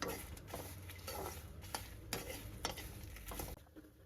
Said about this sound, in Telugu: ఇప్పుడు ఇందులోకి ఎండుమిర్చి కూడా వేసుకుందాం. దీన్ని కూడా కొద్దిసేపు వేయించుకుందాం.